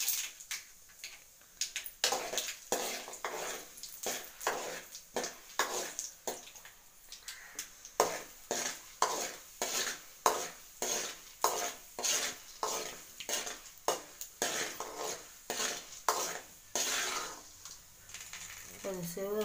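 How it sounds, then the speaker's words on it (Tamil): Chana dal is stirred through spluttering mustard seeds in a pan, a long run of rapid, regular scraping strokes with frying crackle beneath and occasional voices. "கடுகு பொரிஞ்சிடுச்சு. கடலப்பருப்பு போடணும்."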